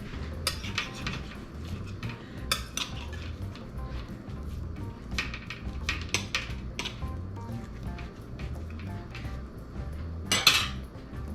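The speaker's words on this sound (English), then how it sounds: "Let me grab a knife." Metal cutlery clinks and rattles as a knife is grabbed from a kitchen utensil pile during a cook-off, with scattered clatters, one sharp loud clank near the end, and a low background hum.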